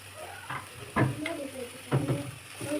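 Cabbage, onion, ginger and garlic stir-fry in a hot pan, with a steady low sizzle and a few distinct scraping stirs of the spatula coming about once a second, close by, with no talking.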